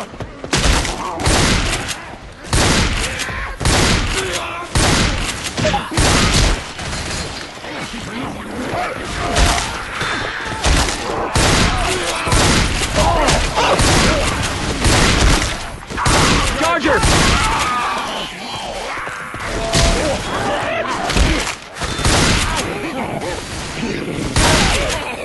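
Gunfire in the zombie shooter Left 4 Dead 2, a dense, loud and nearly continuous barrage of rapid shots and booming blasts running the whole length, with player voices occasionally heard in the chaos.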